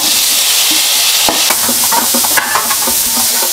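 Ginger, garlic and onion sizzle loudly in a hot oiled pan as palak paneer is cooked, a steady close crackle broken by a few scraping stirs.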